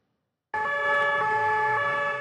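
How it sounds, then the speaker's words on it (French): A police siren starts abruptly after a half-second of silence, then holds a steady, tonal wail at moderate distance, with faint road traffic rumbling beneath it. "Sirènes, gyrophares, circulation bloquée."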